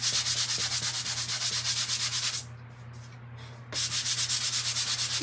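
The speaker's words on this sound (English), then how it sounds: "I'm going to sand it down here so that it don't go everywhere" Someone sands a wooden door hanger by hand, close and loud, with rapid rhythmic back-and-forth rubbing strokes, a short quieter pause partway through, then steady sanding resumes.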